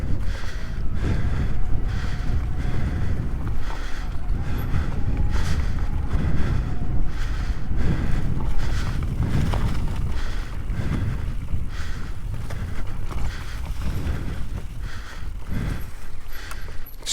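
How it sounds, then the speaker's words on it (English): Wind buffets the microphone on a cold 25°F mountain bike ride at Alum Creek on a 2021 Intense Tazer MX Pro, a loud, continuous low rumble and gusting roar mixed with faint mechanical rattles and no talk. "Even got a little bit of wind blowing."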